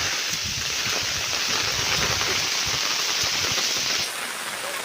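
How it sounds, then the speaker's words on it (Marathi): Heavy rain pours down in a mountain jungle, a dense, loud, continuous hiss and patter of drops that eases slightly near the end. "पाऊस जोरदार चालू झाला आहे."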